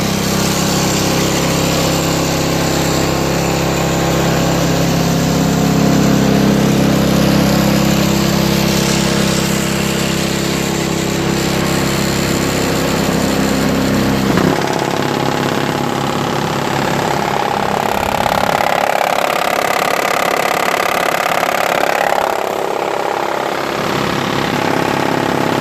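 A Craftsman 5HP single-stage 22-inch snowblower engine running loud and close, a steady rough throbbing drone that holds throughout, with its tone shifting partway through as the load or throttle changes.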